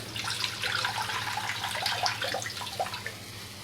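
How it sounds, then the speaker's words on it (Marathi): Water draining off soaked vadis in a kitchen, a continuous close trickling and pouring that runs steadily for a few seconds with nobody speaking. "आपणचं पाणी नितरून घेऊया"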